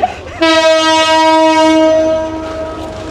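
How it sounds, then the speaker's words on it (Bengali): The Saikat Express passenger train on the Chattogram to Cox's Bazar line sounds a loud, steady horn blast for about two seconds at Harbang station, close by, fading into a low rumble as it prepares to depart. "2 মিনিটের যাত্রা বিরতি দিয়ে আমাদের ট্রেন এখনই ছাড়িয়ে দিচ্ছে"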